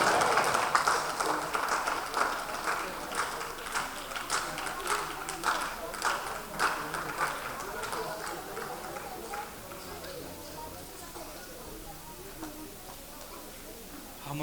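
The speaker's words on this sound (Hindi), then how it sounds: "जोरदार तालियों से स्वागत" Audience clapping to welcome guests at a stage event at Kala Mandir in Kolkata, a dense, fairly distant patter of applause that thins out and fades after about eight seconds, with a voice speaking over it.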